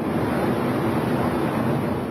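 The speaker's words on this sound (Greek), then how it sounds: "Τα νερά από τις σφοδρές βροχοπτώσεις μπαίνουν μέσα σε σπίτια και καταστήματα." Rushing floodwater from heavy rain pours through a town, a loud, continuous broadband roar with no breaks.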